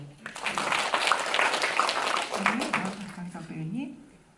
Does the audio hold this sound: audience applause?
yes